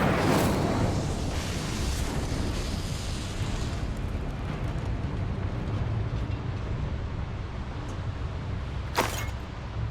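Incendio fire spell cast in Hogwarts Legacy down in a mine, a loud burst opening into a sustained roaring, rumbling blaze that holds steady for several seconds with a brief sharp flare near the end.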